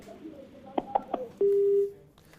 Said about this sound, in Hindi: चलिए फोन कट गया है उनका